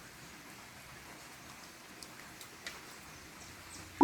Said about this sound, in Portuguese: a gente fazer comida escutando o barulhinho da chuva lá fora